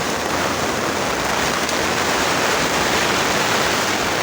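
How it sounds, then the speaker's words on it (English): Heavy rain falls outside a greenhouse, heard as a steady, loud, dense hiss that stays even from start to finish with no voices. "there's a lot of rain outside"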